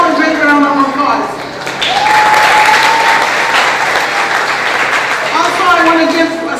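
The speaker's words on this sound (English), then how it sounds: "Give him all a great round of applause." An audience at a nursing school graduation ceremony breaks into loud, sustained applause that swells in the middle, while a voice speaks over the clapping at the start and end.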